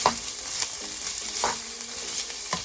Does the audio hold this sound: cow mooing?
no